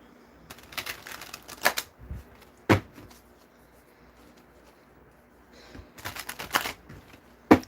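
Cards are shuffled in a few quick riffling bursts, separated by quieter stretches with occasional taps and clicks, close and fairly faint.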